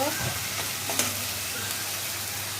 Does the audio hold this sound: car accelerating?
no